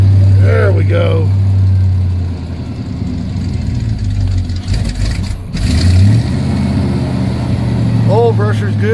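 A Chevy truck engine idles roughly after a cold start, loud and close with a steady low drone, briefly revving before settling again, while someone talks over it.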